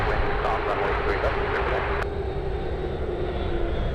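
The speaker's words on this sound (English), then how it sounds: "the Dreamliner almost looking like it's drifting right now as it takes off" A Boeing 787 Dreamliner takes off at San Francisco with a loud, sustained jet roar and a steady tonal whine, with people talking over it.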